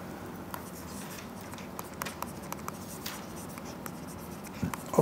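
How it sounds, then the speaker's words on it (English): Chalk or pen scratching steadily by hand on a board while a lecturer writes out a mathematical definition, with a run of short taps and strokes, fairly quiet and with no talking. "So let me write that down."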